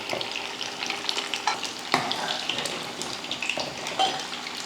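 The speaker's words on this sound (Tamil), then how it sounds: "மறுபடியும் மீன் இருக்கிற மீனெல்லாம் பொரித்து எடுத்துக்கலாம்." Fish sizzling crisply in hot oil in a pan, a steady close-up crackle with occasional sharper spits and pops, no talking.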